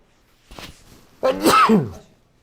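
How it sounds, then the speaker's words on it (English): A single loud sneeze with a short breathy wind-up before it, close to the listener, then quiet. "I'm going to sneeze here."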